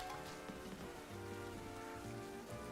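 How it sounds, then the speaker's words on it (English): Steady rain falls in an urban outdoor setting, a continuous dense patter on surfaces that stays at an even level throughout with no voices. "Wow, it's raining."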